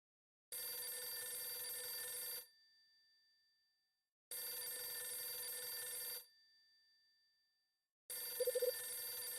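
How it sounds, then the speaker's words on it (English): A telephone rings in three loud, long electronic bursts separated by pauses, each ring fading out, with no talk. "It's my phone."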